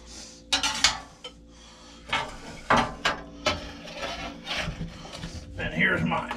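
Knife sawing through a 30-day aged beef steak, a series of uneven scraping, rasping strokes with short bursts and gaps, close and fairly clear, with people talking at times.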